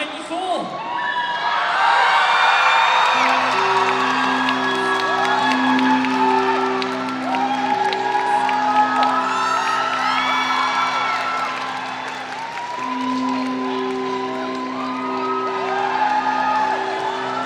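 At an MCM Birmingham cosplay masquerade, a large hall crowd cheers and whoops loudly, with rhythmic chanting of "shrimp" rising and falling throughout while a voice speaks over it.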